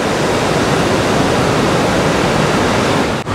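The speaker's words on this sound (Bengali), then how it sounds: "এই যে এখান দিয়ে জলটা নিচে নেমে যাচ্ছে" Water from Salaulim Dam rushes down the concrete spillway in a steady, loud, broadband roar that holds at full level without pause, with only a brief dip at the very end and no voices.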